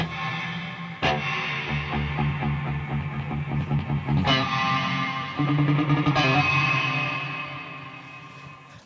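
An electric guitar rings through a Stoneham amplifier with HX Effects reverbs, strummed chords and picked notes trailing off into washy reverb and echo, with a few sharp attacks.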